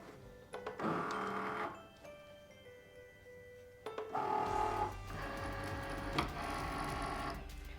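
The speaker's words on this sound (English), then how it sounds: "And then we're going to load it into our Cricut." A Cricut cutting machine takes in a mat with vellum applied, giving a steady mechanical whir and motor hum with ticking bursts, close and moderately loud with a quieter gap in the middle.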